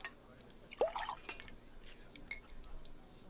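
A drink is poured into a small glass in the Nancy Drew game The Haunting of Castle Malloy, a quiet splash and trickle of liquid with light glass clinks, soft and brief with no speech.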